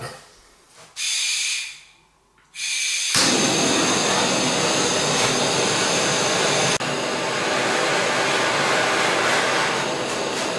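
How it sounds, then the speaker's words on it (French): A small blowtorch roars steadily while soldering electrical wire onto a copper tube for a shower drain-water heat exchanger, a loud close hiss that cuts out briefly near the start before relighting and running continuously. "Donc avec un petit chalumeau comme ça, une petite lampe à souder et puis de l'étain pour fixer le fil sur le tube cuivre"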